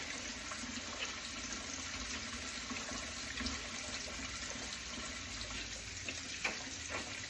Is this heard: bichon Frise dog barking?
no